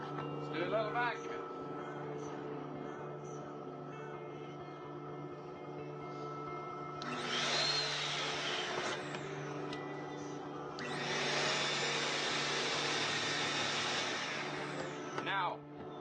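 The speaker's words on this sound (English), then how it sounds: "Let's do a little vacuum." A vacuum cleaner powered by a 3,000-watt portable generator runs in loud, whining bursts over the generator's steady hum, surging twice and then cutting out, heard close with speech around it.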